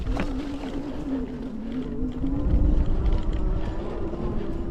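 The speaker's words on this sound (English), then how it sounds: "Keep your feet still and get through that mud." A Vitilan I7 Pro 2.0 folding electric bike rides through mud with a steady motor hum and churning, sloshing rumble that swells midway, close and continuous, with no talking.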